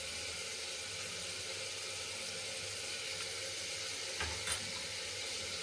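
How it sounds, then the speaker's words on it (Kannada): Tomatoes frying in a pan give a soft, even sizzle that runs steadily throughout, with a couple of faint clinks near the end, quiet and without talk. "ಸ್ವಲ್ಪ ಸಾಫ್ಟ್ ಆಗೋವರೆಗೂ ಫ್ರೈ ಮಾಡ್ಕೋಬೇಕು."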